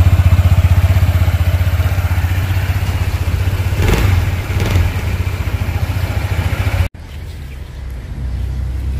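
A Honda ADV 160 scooter engine runs loud and close, throbbing steadily with a brief rise in revs midway, then cuts off abruptly and drops to a quieter idle-like hum.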